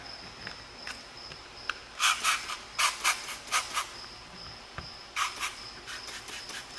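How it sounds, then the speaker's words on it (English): A cricket chirps in bursts of quick pulses in the background of a quiet workspace during a front bumper film installation, with rubbing sounds from work close by and a faint steady high tone underneath. "I do apologize for the cricket, if you guys are hearing that."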